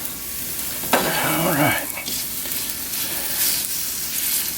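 Meat and bacon sizzling in a skillet, a steady close frying hiss with a burst of stirring and scraping early on and a brief spoken word.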